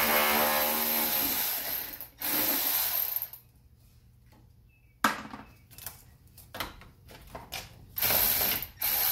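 A ratchet wrench works on the 10 mm battery bolts of a Honda Civic, a quick run of clicking bursts with short pauses and metallic handling noise between them, close by and with no talking.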